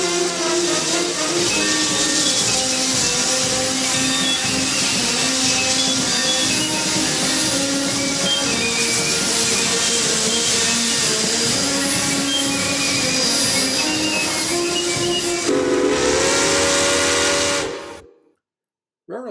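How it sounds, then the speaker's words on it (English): A restored Santa Fe steam locomotive at the San Bernardino depot blows a loud, sustained steam whistle over heavy hissing steam for most of the stretch, then shifts pitch briefly before cutting off abruptly. "it has been used since as a restored operating train locomotive"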